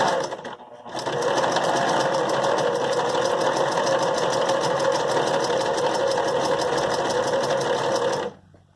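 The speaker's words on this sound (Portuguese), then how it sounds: "Aí você vai pisar no acelerador, com a pontinha do pé, e vai ver como é que a máquina funciona." Sewing machine running steadily at high speed with the foot pedal pressed, a dense rapid mechanical whir that starts after a second and stops abruptly near the end, close and alone.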